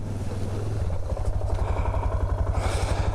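A lightweight KTM motorcycle engine rumbles steadily as the bike ploughs through deep lake water. Splashing and a rushing wash rise toward the end.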